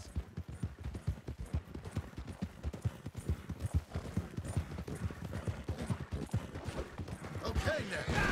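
Horse hooves clip-clop steadily at a walking rhythm in Red Dead Redemption 2, close and even, with a voice talking over part of it.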